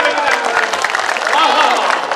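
Audience applause at a Banaras all-India mushaira poetry gathering: a dense, continuous wash of clapping with cheering voices mixed in, loud and sustained throughout.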